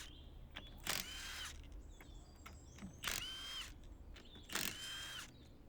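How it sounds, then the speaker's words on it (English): An impact wrench with a 17 mm socket spins lug nuts off a Can-Am Defender wheel, three short whirring bursts spaced a couple of seconds apart over a low steady background hum. "We do have an impact though, so we're going to use that."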